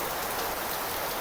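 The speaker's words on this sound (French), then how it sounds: "Il fait chaud, il pleut." Steady, dense rain falls in Kuala Lumpur, Malaysia, as an even wash of patter that is loud and constant throughout, with no voices.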